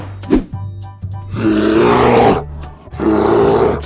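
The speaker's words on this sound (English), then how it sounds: "This voice is bear." A bear growling and roaring, two long rough bellows with a short grunt before them, loud and close, with no talk.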